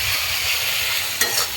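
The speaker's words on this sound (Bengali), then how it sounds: "এদিকে এই পেঁয়াজ ভাজা হচ্ছে, লাল লাল করে পেঁয়াজ ভাজা হচ্ছে" Onions sizzle as they brown in a pan with garlic, a continuous close hiss with a brief stirring clatter toward the end.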